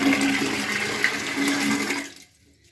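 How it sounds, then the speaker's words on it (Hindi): Water is poured into a flashlight being tested underwater, a steady close rushing splash lasting about two seconds before stopping abruptly, with no voices. "अगर आपको बिलीव नहीं है ना तो मैं इसके अंदर और पानी डालता हूँ"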